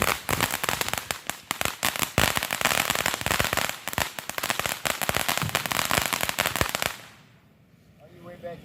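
Fourth of July fireworks and firecrackers popping and crackling in a dense rapid barrage for about seven seconds, close and loud, then cutting off to a quiet tail with faint voices.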